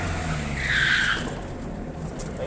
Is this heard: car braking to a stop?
yes